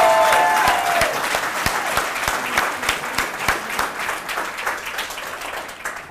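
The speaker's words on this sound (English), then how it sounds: "And now use those hands to clap for liberty and the Second Amendment." A crowd at an outdoor political campaign rally claps together, with a brief voice at the start before a steady burst of applause that gradually thins and fades.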